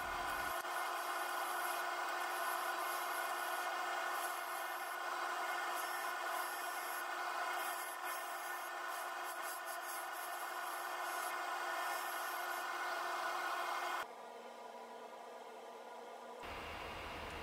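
Lathe cutting a cedar-shavings and resin lid, removing material from the underside: a steady, fairly quiet scraping hiss that holds evenly for about fourteen seconds, then drops to a softer, duller tone near the end.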